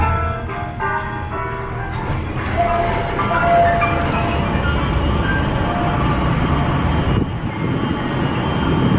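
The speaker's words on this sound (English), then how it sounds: "Got some real elevator music going in this damn elevator." Elevator music plays inside an elevator on the Las Vegas Strip, with tonal melodic notes over a continuous background hum. It stays at a fairly steady level for the whole stretch, with no talking.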